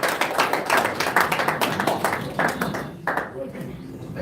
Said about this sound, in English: I think the National Chairman of Labour deserves another round of applause.